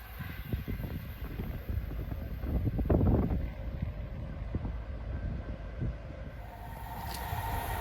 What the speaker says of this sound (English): Passing through now is an Avanti West Coast service from London Euston to Birmingham New Street